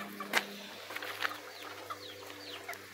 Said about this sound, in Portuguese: Olha o galinho aqui.